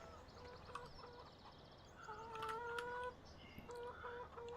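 Chickens in the farming game Farming Simulator 19 clucking and squawking in a flock, several overlapping calls with a rising cackle in the middle, faint and steady over a low ambient bed.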